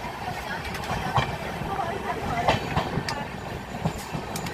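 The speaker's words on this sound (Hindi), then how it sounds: "तिलक ब्रिज क्रॉस कर रही है मगध एक्सप्रेस" The Magadh Express rolls over Tilak Bridge, heard from on board: a steady rumble with repeated wheel clatter and metallic clicks over the joints, loud and continuous throughout.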